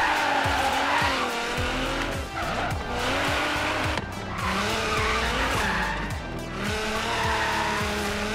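A car drifts in Forza Horizon 3, with loud tire squeal wavering up and down over several long slides as the engine revs and pulses underneath.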